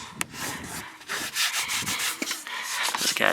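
A cloth scrubs the interior of a BMW car in close, brisk back-and-forth rubbing strokes with short pauses between passes.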